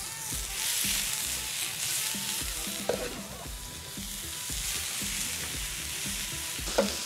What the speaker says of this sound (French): Je vais les faire revenir avec ma spatule en fait.